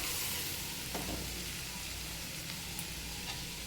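Beetroot and potato with added peas fry in a pan, giving a steady, dense sizzle that holds evenly throughout, with a few faint clinks and stirring touches and no talking.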